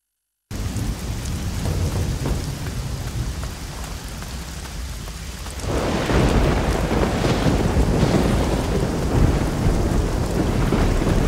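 A thunderstorm in the video game Risen 2: steady heavy rain and wind under rolling thunder, swelling louder and denser about halfway through and holding there.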